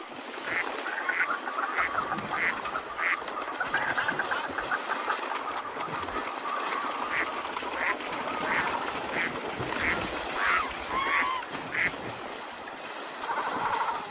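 A large waterfowl flock on the German North Sea coast keeps up a constant chorus of duck quacks and goose honks over a dense, rushing background of many birds at a distance.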